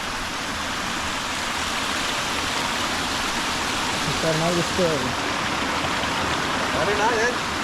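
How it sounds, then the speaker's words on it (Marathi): A steady rush of a river flowing below a waterfall in a Konkan village fills the scene, with a voice briefly audible beneath the roar. "इकडनं धबधबा येतो वरतून तिकडनं बघा वॉटरफॉल इकडे बघा नदी वाहते मस्त इथे"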